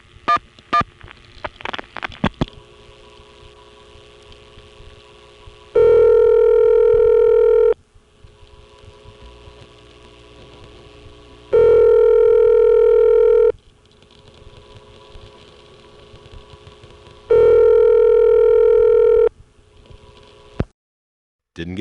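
1976 NX1 crossbar telephone exchange in Belvedere, New Jersey, switching a call: a burst of rapid clicks and pulses, then three long, loud steady ringback tones separated by quiet gaps with faint line hiss.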